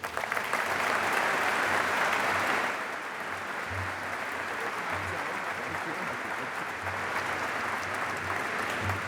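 Audience applause welcoming a speaker to the stage at a leadership forum in a library, a steady, dense wash of clapping from a sizable crowd that swells loudly at first, then settles to a slightly softer, sustained level throughout.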